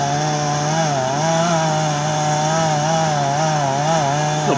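Chainsaw cutting through a cedar tree near power lines, with a skid steer pushing on the trunk; the engine runs loud and close without pause, holding a steady whine that wavers slightly as the bar works through the wood.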